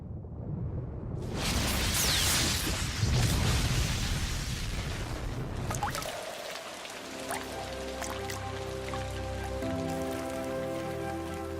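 Heavy rain falls in a dense, loud hiss for about six seconds, then fades as music takes over for the rest.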